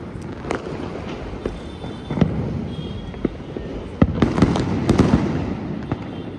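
Diwali fireworks going off outdoors: several sharp, loud bangs and cracks at irregular intervals over a crackling, rumbling background of distant bursts all around.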